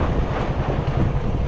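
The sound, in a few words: strong wind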